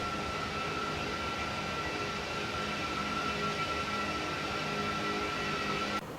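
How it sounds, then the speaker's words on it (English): Rolls-Royce engines on a Laminar Airbus A330-300 in X-Plane 12 give a constant, even roar with a faint steady whine, unchanging for several seconds before cutting down at the end. "Got those Rolls-Royce engines."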